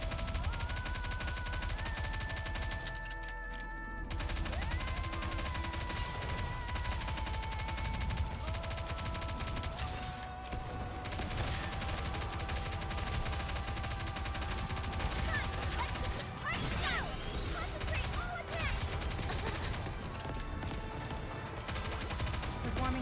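Gunfire in the video game Goddess of Victory: Nikke, dense continuous bursts of rapid shots layered over game music and effects, with character voices calling out over the battle.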